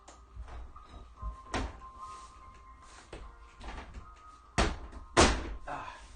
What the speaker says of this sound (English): Excuse the bang there. We have a door that sticks.